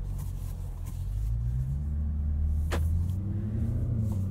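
A 2021 Jaguar F-Pace SVR engine rumbles low and steady from inside the cabin while driving on the road, swelling slightly as it accelerates.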